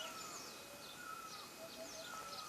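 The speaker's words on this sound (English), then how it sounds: "sounds of birds chirping around." Birds calling around a mountain village, several bright chirps and whistled notes scattered across the scene at moderate distance over a soft outdoor background hush.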